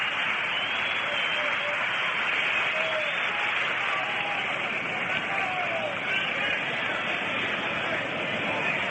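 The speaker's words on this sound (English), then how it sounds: "Here comes Early Wynn, having a nice round of applause" Ballpark crowd applause for pitcher Early Wynn at a World Series game between the Dodgers and White Sox, a continuous distant roar of clapping heard on an old, narrowband broadcast with faint voices mixed in.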